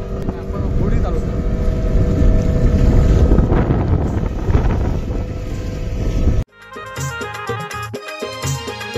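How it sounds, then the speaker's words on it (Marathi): Engine of a small fishing boat running out at sea, a loud steady rumble mixed with heavy wind buffeting the microphone, then an abrupt cut to quieter, more tonal engine noise near the end. "आपण होडी चालवतो."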